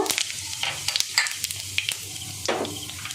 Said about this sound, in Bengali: তেলটা গরম হয়ে গেছে। এবার আমি কিছুটা সাদা জিরে দিয়ে দেব।